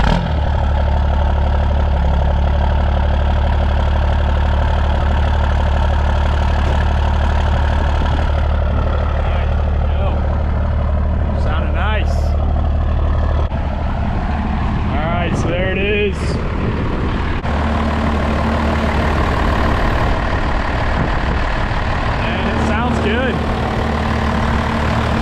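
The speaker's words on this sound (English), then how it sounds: "Good old 12-valve Cummins." A Cummins 12-valve diesel engine in a first-generation truck, idling with a steady, heavy low rumble that runs loud and unbroken the whole time, while people talk over it now and then.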